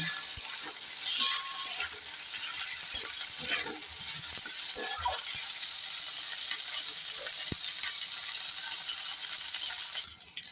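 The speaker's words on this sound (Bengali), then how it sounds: "ক্যাপসিকাম, পেঁয়াজ আর সুইট কর্নটা আমি হালকা ভেজে নিয়েছি" Capsicum, onion and sweet corn sizzle lightly in a pan, a soft, even crackle with small scattered pops and the occasional clink of stirring, no voices.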